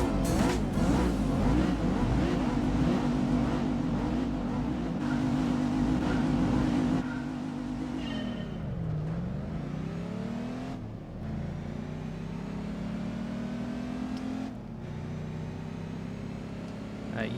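Race car engines in Gran Turismo 4 drone loudly and continuously, with a steady high-revving tone that dips and climbs through gear changes.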